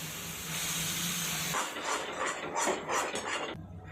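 Tomato puree hitting fried onion paste in a hot pan gives a loud, steady sizzling hiss, which breaks into sputtering, crackling bursts as it cooks.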